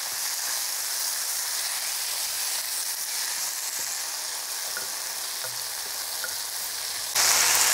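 A handful of curry leaves fries in a pan of oil for a Chettinad curry leaf gravy, a loud, steady sizzle and hiss that holds throughout and rises sharply near the end.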